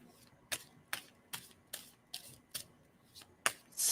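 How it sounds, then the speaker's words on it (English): Tarot cards being shuffled by hand, heard as a series of about nine crisp riffling bursts at a steady rhythm, close and quiet with soft pauses between. "And tell me when to stop shuffling."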